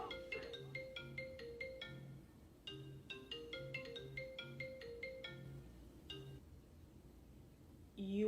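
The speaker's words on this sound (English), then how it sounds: "Your phone's ringing." A phone ringtone plays as a repeating melodic pattern of tonal bursts, fairly loud and continuous for several seconds, ending with a sudden louder bump of handling noise.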